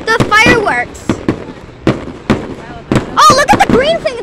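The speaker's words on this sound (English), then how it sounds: "I think they're controlling the fireworks." Fireworks bursting in the sky, a rapid series of loud booming pops and crackles at varying distance, with excited voices talking and exclaiming between and over the blasts.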